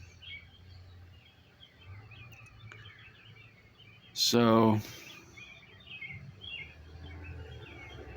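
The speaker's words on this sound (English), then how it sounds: "got birds chirping." Birds chirp outdoors in scattered, faint calls throughout, mostly behind a person talking, with a louder burst of sound in the middle.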